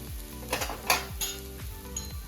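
Coriander paratha (kothimbir dhapate) roasting on a hot tawa over a gas flame, giving a steady close sizzle broken by a few soft scraping and utensil clinks, with no voices.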